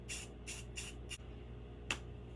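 Several short bursts of spray adhesive from an aerosol can aimed at the center of a pool noodle tail for a Dollar Tree Rudolph craft, four quick hisses close together and one more after a pause, near and quiet.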